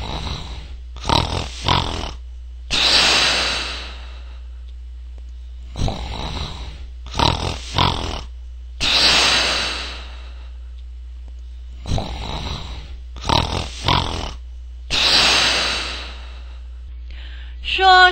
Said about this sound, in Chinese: 原来是打鼾，打鼾，打鼾，打鼾的声音